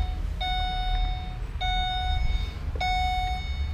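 A Holden VE Commodore dashboard chime sounds as the ignition is switched on: three clear electronic tones repeating about every second over a low background hum, with no speech.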